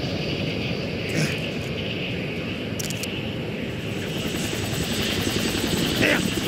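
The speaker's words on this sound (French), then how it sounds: "Merde! Un hélico!" Helicopter flying overhead in the video game Kane & Lynch 2: Dog Days, a loud, continuous rotor thrum and whine that holds steady for several seconds, with no voices over it.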